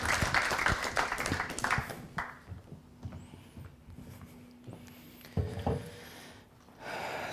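A church audience gives brief thankful applause, a short patter of clapping that quickly thins into scattered claps and room noise.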